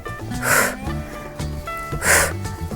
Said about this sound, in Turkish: Nefesi özellikle duyuruyorum size.